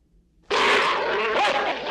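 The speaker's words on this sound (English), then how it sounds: "Rascal dolt, always barking at nothing." A dog barks in the 1985 animated film The Black Cauldron, a sudden loud burst after near silence that stays as a dense, sustained noisy blast for the rest of the moment.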